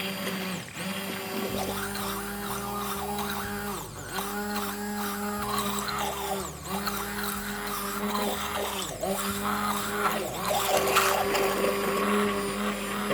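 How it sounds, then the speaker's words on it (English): An immersion blender whirs steadily as it emulsifies homemade mayonnaise, its motor pitch wavering as the blade works through the mixture, loud and close with no talking. "you just stick your emulsion blender in there"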